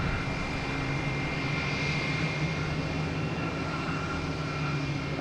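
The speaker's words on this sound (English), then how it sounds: "next up, we have a JetBlue heading to Denver." A JetBlue jet airliner takes off from Logan Airport bound for Denver, its engines producing a loud, sustained roar with steady tonal whine layered on top, close and constant through the short span without speech.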